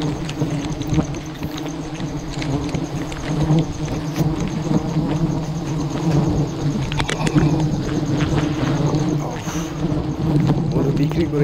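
Bees swarm around a large wild honeycomb high in a tree, a constant, close, loud buzzing drone throughout with passing individual insects.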